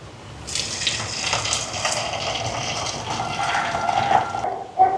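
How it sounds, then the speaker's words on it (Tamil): Boiling water is poured into rice flour for Jaffna-style string hoppers. A steady, close splashing gush runs for several seconds, swells near the end and then stops abruptly. "தண்ணி நல்லா கொதிச்சிட்டிங்கால தண்ணியை சேர்ப்போம்"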